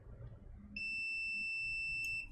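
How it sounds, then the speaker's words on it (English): A multimeter in continuity mode, probing a hard drive's shorted SATA connector, gives a single steady high-pitched electronic beep that starts abruptly partway through and holds continuously to the end over a faint low background hum. "multimeter into continuity mode"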